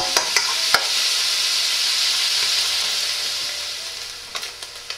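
Pork belly seasoned with salt and pepper fries in a pan with a steady bright sizzle, while a utensil scrapes and taps against the pan at the start and end as the meat is stirred.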